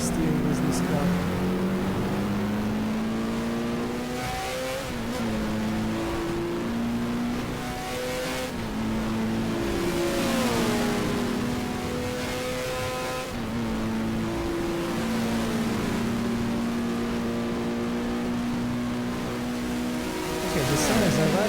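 A race car engine in GTR2 at Monza holds a steady, loud high-revving drone with brief dips and rises as gears shift under braking and acceleration, continuous throughout, with someone talking over it.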